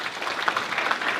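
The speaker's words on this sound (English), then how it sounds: "Give them a round of applause." Brief patch of applause from an audience at an Air Force base Black History Month guest speech, a broad steady clatter of clapping with no voices.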